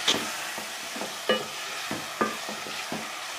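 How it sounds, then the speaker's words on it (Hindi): Chopped tomatoes sizzling in a pan while a wooden spoon stirs them, a run of rhythmic scraping strokes with a few louder knocks over a steady fry. "साथ में अब ये लकड़ी का चम्मच है तो आप इसको ऐसे ऐसे करते रहें"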